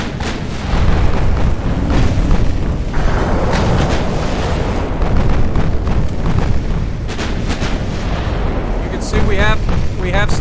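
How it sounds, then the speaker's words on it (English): Naval gunfire and bursting shells in the Ultimate Admiral: Dreadnoughts video game, a 1925-tech fleet under fire from 1940-tech ships, with dense, continuous rumbling booms and sharp cracks that stay loud throughout the clip. "Okay, now we are being fired upon."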